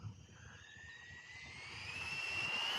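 A WLToys 104009 brushless RC car on a 3S LiPo running flat out, its high electric whine climbing steadily in pitch and loudness as it approaches, alone without voices.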